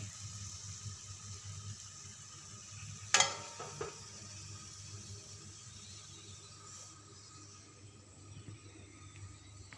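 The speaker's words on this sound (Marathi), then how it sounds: "तर आजूबाजूला असं थोडं मी असं तेल सोडते" Oil sizzles around a jaggery and peanut sweet flatbread frying on a hot pan, a soft continuous hiss with a brief clattering burst early on before it settles back to a quiet fizz.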